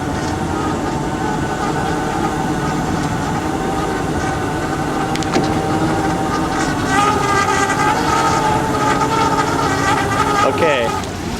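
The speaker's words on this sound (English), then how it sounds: "A little slower on the winch." A boat's winch hauls a lobster trap aboard, a steady loud mechanical drone with a rising whine near the end, with people talking over it.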